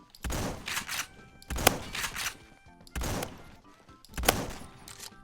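Shotgun blasts in the Roblox game Phantom Forces, four loud evenly spaced booms, each followed by a short mechanical rack or reload clatter, with no voice over them.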